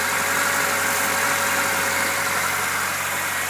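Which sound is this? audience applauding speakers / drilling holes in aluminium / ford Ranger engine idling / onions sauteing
ford Ranger engine idling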